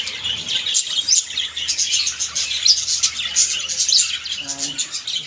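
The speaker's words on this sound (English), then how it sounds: "this is very cute bird" Many small birds chirp and tweet continuously at a busy bird market in Dhaka, a dense overlapping chorus of high calls, fairly close and loud throughout.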